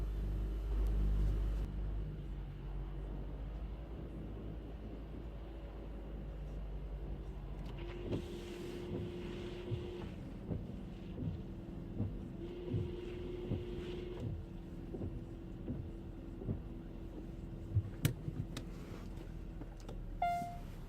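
Hyundai Kona with a 1.6 T-GDI turbocharged petrol engine idling after a cold start on a cold day, a steady low rumble heard from inside the car with a few faint clicks and soft knocks, and no talking.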